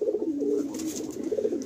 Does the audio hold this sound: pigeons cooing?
yes